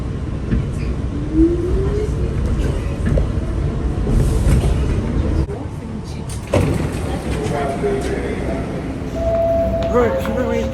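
New York subway train at the 14th Street station running loud and close, with a steady rumble and clatter, a brief squeal and a door-like thump partway through, while people talk over it.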